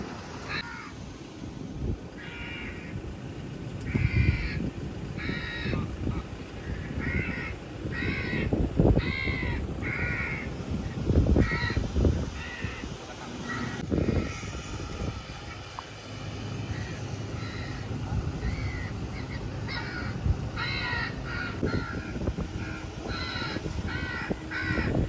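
Crow caws broadcast from a loudspeaker during a crow-shooting outing, repeated harsh calls in rhythmic bursts over a constant outdoor rumble, loud and near throughout.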